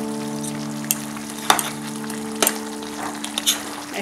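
Chicken and tomato paste fry in a pan for a chicken kosha, giving a low steady sizzle with a few sharp scrapes of stirring, close and without talk.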